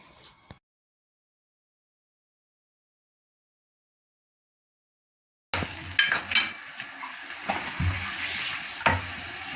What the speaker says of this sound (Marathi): मी त्या तेलामध्ये कांद्याचे पेस्ट चांगले लालसर अशी भाजून घेतली